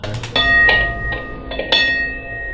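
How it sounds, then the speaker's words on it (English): A few low, ringing metallic strikes with long tonal decay, a bicycle bell pitched down, three hits spaced unevenly, fairly close and clear. "There's a cycle bell which has been pitched down to sound like that"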